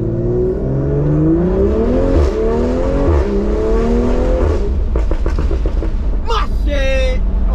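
A BMW M340i with an aftermarket exhaust revs hard, its engine note climbing through rising pitch sweeps and shifts, loud and close, followed by crackling pops from the exhaust, with a voice briefly heard over it.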